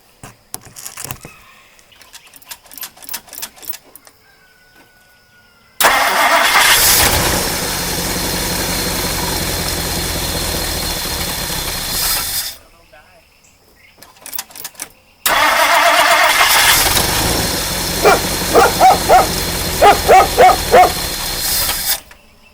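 A 1959 Mercury Monterey that sat unused for a decade cranks and catches. It runs loud, cuts out, then cranks and roars to life again, while a dog barks several times close by over the running engine.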